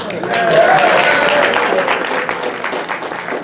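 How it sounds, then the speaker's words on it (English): Applause and some cheering rise from a crowd at a grassroots Sierra Club retreat, a broad, sustained wash of clapping that swells early and holds fairly loud to the end. "This is where you guys cheer because this is a very exciting moment."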